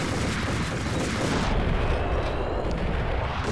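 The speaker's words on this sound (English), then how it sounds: "Why am I using a shotgun here?" Shotgun blasts in the action video game Max Payne, dense and booming, merging into a continuous loud roar of gunfire and explosions with no pauses.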